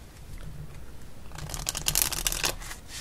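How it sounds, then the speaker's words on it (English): A deck of playing cards is shuffled for a solitaire game, a quiet riffling start that builds into a dense burst of crisp flutters and snaps near the end, close up with no talking. "let's shuffle these up nice and well"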